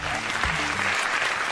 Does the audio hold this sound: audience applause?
yes